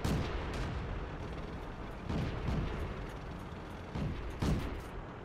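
Tank cannon fire in World of Tanks, muffled booming shots landing at irregular intervals, several distinct thuds over a steady low rumble, fairly quiet overall.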